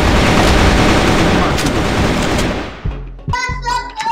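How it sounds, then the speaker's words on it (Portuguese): Rapid automatic gunfire from the video game CrossFire bursts loudly and continuously, then breaks into a few separate shots over excited player voices toward the end. "Eu dei tiro nele."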